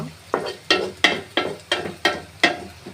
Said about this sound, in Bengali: এখন এগুলো নাড়তে থাকবো পেঁয়াজ লাল হওয়া পর্যন্ত।